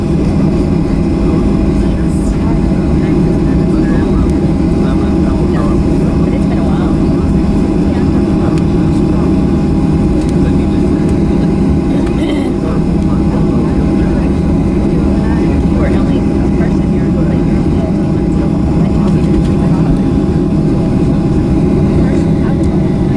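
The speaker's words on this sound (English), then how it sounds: "We've been cleared for takeoff." A Southwest Airlines Boeing 737-700 takes off, heard from inside the cabin as a loud, continuous engine roar and rumble that holds steady throughout.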